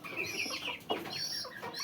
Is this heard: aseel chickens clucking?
yes